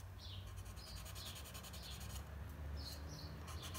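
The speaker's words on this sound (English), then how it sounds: "I use this sanding sticks first" Sanding sticks worked slowly across a 1:24 Hasegawa Ferrari 348TS plastic model kit, giving soft repeated scratchy rubbing strokes, close and steady, over a low background hum.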